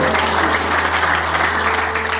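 Continuous audience applause at a health talk, dense even clapping from a crowd over a steady low hum, with no one speaking.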